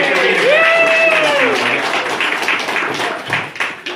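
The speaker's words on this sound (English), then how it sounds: "How about a big round of applause for Adrian?" A birthday party crowd claps and cheers for the guest of honour, a dense burst of applause with a few whoops, loud at first and tapering slightly over several seconds.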